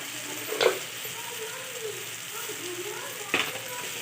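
Semolina sheera cooking in ghee gives a soft, steady sizzle, with two brief scraping clinks of a spoon as sugar is added and stirred in.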